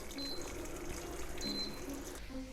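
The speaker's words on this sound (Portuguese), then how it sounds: "Agora o meu caldo tá pronto e o meu turkey tá assando. Eu vou coar ele." Reduced turkey broth poured through a strainer, a faint, steady trickle and dribble of liquid running close by for a couple of seconds.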